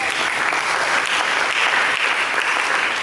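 Church congregation applauding during a sermon, a dense, steady wash of many hands clapping at once, loud and sustained throughout with no voices standing out.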